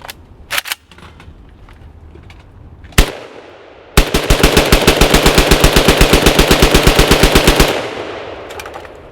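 A rifle bump fired while held sideways: a few separate loud shots, then a rapid burst of about thirty evenly spaced cracks over roughly four seconds, close and loud, with no talk.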